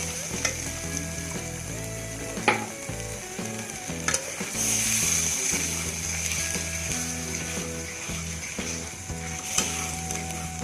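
Chutney sauce for chicken Manchurian is poured into a hot pan and sizzles loudly while it is stirred, with a rattling, scraping spoon and a few sharp clanks against the metal, and no one speaking.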